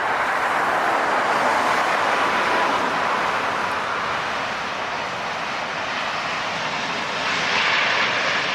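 A fixed-wing airliner lifting off at LAX, its engines roaring loud and steady throughout, swelling slightly again near the end, with no talking.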